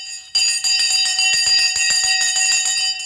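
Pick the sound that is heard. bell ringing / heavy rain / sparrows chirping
bell ringing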